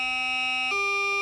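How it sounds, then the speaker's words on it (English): Bagpipe chanter sounding a sustained note, then a quick step to a lower held note, with a tight buzzing reed tone, loud and close, nobody talking. "the G grace notes were what I call a chirpy sound with the one finger."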